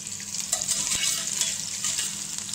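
Spring onion sizzles steadily in a hot pan, a continuous close frying hiss with a few faint scrapes, no voices.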